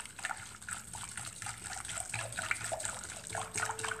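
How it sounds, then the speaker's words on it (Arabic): Milk being poured into a cruffin dough mixture in a home kitchen, a soft, close liquid trickle and splash running steadily for a few seconds with no talking. "نزيد الحليب"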